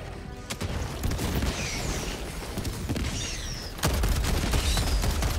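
A deployed sentry turret in Helldivers 2 fires scattered volleys of gunfire amid booming explosions and mechanical clatter, growing louder in the final seconds.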